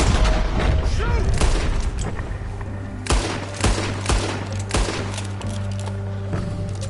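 Gunshots in Red Dead Redemption 2 are fired at a bear: a run of sharp, separate reports rings out over a steady low game ambience, spaced roughly half a second to a second apart, with speech early on.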